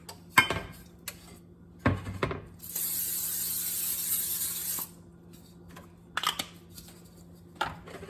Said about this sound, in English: we need to spray the baking dish with cooking spray